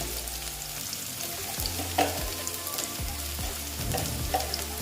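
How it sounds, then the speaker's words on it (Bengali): Potatoes frying in hot oil with a steady, dense sizzle and occasional scrapes of stirring, close by. "আলুগুলো আমি একটু ভালো মতো ভেজে নেবো"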